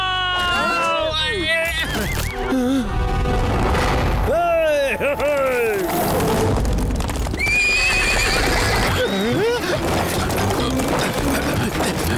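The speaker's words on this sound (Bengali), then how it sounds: "কেউ ঘোড়াগুলোকে থামাও!" Cartoon racehorses let out loud, repeated whinnies over fast clip-clopping hooves during a race, with a few dull booms mixed into a busy, continuous soundtrack.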